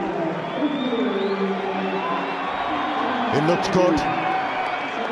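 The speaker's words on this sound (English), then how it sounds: "The home crowd have something to cheer" A home crowd at a T20 cricket match cheers and whoops in the distance, a steady roar under a commentator's voice that swells near the end.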